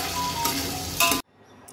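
Potatoes and mixed vegetables frying in a pan for Maharashtrian masale bhaat, a dense close sizzle with a brief louder flare of stirring, then cutting off abruptly into near silence.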